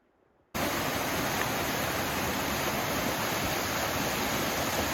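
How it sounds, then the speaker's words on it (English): Small waterfall along the Appalachian Trail, heard up close as a loud, steady rushing roar that starts abruptly after a brief quiet moment and then holds constant. "Another pretty little waterfall for you to enjoy."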